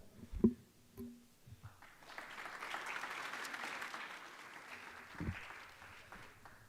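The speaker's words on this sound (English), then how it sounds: "Let's give my friends here a super round of applause." After a few soft knocks, a school board meeting audience breaks into moderate applause that swells and holds for several seconds, heard from a slight distance.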